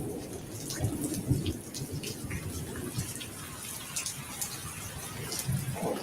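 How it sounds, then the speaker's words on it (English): Rain falls with rumbles of thunder, a steady hiss of drops mixed with low rolling booms and scattered patters, at a moderate, even level throughout. "Girl, it's raining."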